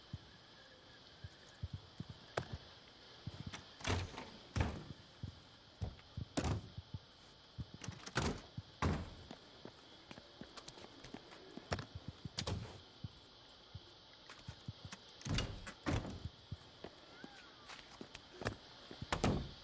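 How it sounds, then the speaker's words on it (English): Doors open and close in the Days Gone video game, heard as a series of sharp, separate thuds and clunks spaced every second or two over a low, quiet background. "Try opening and closing this door again."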